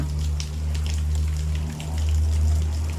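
Steady rain falls at a campsite in Khao Sam Roi Yot National Park, Prachuap Khiri Khan, forming a dense, even patter over a low constant hum, with no voices.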